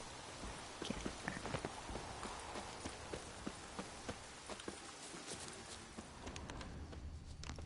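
Horse hooves walking in The Witcher 3, a dark black horse clip-clopping with soft irregular thuds under faint game ambience, fairly quiet and close.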